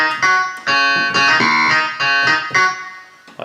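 Keyboard playing a funky riff, a clavinet-like tone in choppy syncopated stabs, close and solo, ending in a short link phrase.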